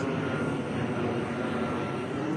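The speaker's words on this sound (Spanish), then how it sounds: "Muchos aviones la mañana pasan bien bajito." A loud, steady roar of an airplane passing close overhead, filling the whole clip with dense engine rumble.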